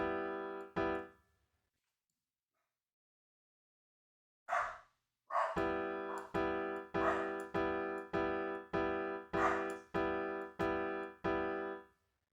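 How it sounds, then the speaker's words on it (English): Dog barks sound as sharp, tonal yelps: two early, then a steady rhythmic run of evenly spaced barks after a pause, clean and close with silence between. "Oh, the doggos."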